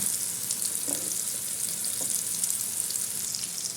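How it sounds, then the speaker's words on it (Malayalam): Chicken burger patties fry in butter over a low flame in a pan, a steady close sizzle running throughout with faint stirring or flipping touches and no talk. "അതവിടെ ലോ ഫ്ലെയിമിൽ കിടന്നൊന്ന് വെന്ത് വരട്ടെ ഞാനൊന്ന് മറിച്ചിട്ട് കൊടുത്തിട്ടുണ്ട്"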